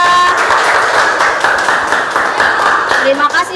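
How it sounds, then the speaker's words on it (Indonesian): A primary school class applauds group 3, with dense, steady clapping from many hands filling the room and a voice talking over it. "Tepuk tangan untuk kelompok 3"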